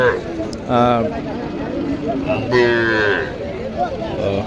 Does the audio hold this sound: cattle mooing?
yes